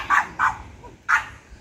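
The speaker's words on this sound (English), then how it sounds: "The barking dog." A tailless, friendly female dog barks three sharp, close barks in quick succession, with a brief gap before the last one.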